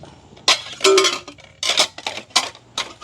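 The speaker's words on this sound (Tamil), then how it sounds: "இவ்வளோ பாத்திரங்கள் நிறைய பாத்திரங்கள் வந்துருக்கு" Metal cooking pots, lids and utensils clink and clatter in a series of sharp, close, bright knocks, several separate bursts over a few seconds.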